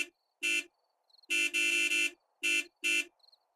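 A car horn in the zombie survival video game 7 Days to Die honks five or six times in short, loud bursts, some doubled, with brief silences between them.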